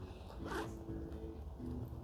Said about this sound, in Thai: และซิปด้านข้างค่ะ ตรงนี้2หัวซิปค่ะ